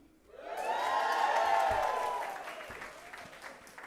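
Audience at a school board meeting clapping and whooping, a swell of cheering and applause that peaks and then fades away, ending with scattered claps.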